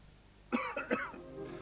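A couple of short, harsh coughs close to the mic, followed by quieter throaty rumbling.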